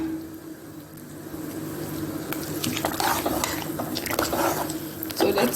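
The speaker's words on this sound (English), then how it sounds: "So I'm gonna add them to the coconut milk. So I'm gonna throw in the ingredients." Carrots, scallion and onion dropped into coconut milk in a kitchen pot, giving wet squishing, splashing and clattering sounds over a low background hum, growing busier toward the end.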